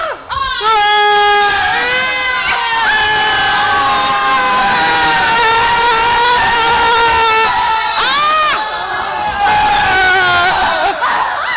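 A crowd of people at an event screams and cheers together, loud, sustained shrieks and whoops rising and falling close by, with a brief dip before a second burst.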